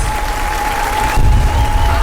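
A large crowd at a birthday party claps loudly and continuously, with a steady tone humming underneath the applause.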